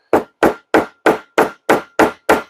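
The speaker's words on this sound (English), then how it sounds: "you want to get yourself a hammer or something of that nature" A hammer taps glued leather pieces for a sheath with eight evenly spaced, sharp, dull knocks about a third of a second apart. The blows are close and loud, with no voices.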